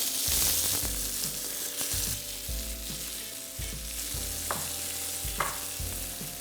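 Steak and mushrooms frying in butter in a hot pan, a steady close sizzle with occasional louder crackles and spatters throughout.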